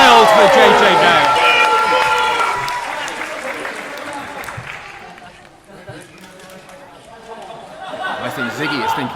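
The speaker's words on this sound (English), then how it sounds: "the crowd are going wild for JJ Gale" A professional wrestling crowd roars wildly for JJ Gale, loud dense cheering and chatter that swells at the start, dips midway, then rises again, with shouting voices mixed in.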